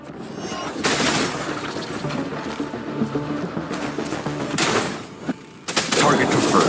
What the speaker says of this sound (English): now I'm not okay now that they're shooting at me